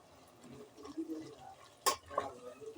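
Mint and coriander are stirred into tomato rice in a pan: quiet, irregular scraping and shuffling, with a brief louder clatter of the spoon against the pot near the end.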